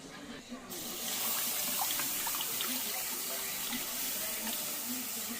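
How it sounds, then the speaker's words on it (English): Whole milk is poured into a pan over a brown roux for brisket mac and cheese: a steady, close liquid rush that starts abruptly after a quiet moment and continues evenly to the end. "we got 3 cups of whole milk that we're going to bring in"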